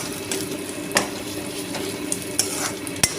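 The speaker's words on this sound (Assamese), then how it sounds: "আলুখিনিও মই ধুনীয়াকৈ ভাজিম, সেইখিনি কম জুইত একেবাৰে।" Potatoes with turmeric frying over low heat in a wok, a steady close sizzle broken by a few sharp scrapes of the stirring utensil against the pan.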